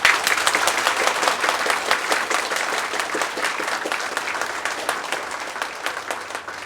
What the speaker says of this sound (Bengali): সবাই খুব জোরে হাততালি দেবে